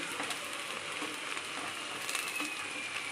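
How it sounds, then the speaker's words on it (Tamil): Garlic sautéing in a little oil in a pan gives a steady, close, even sizzle with soft crackling all the way through, with no talk over it. "இது எப்படி வதங்குது பாருங்க இந்த பூண்டு அந்த எண்ணெயிலே வேகணும்"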